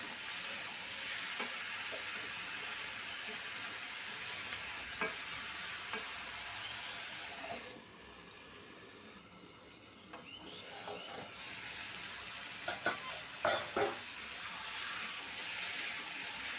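Bottle gourd sautéing in a pan, giving off water as it cooks: a steady, close hiss of frying with occasional spatula scrapes and stirring knocks, dipping briefly quieter partway through, with no voices.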